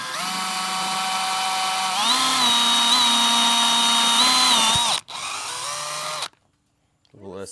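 A power drill boring a hole in the metal body of a vertical pellet smoker, with a steady high whine that rises in pitch, cuts out and then briefly restarts, followed by a short silence and a faint voice.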